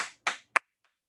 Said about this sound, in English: so you can clap the hands